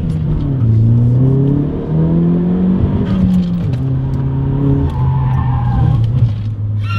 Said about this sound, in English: You heard my tire screeching?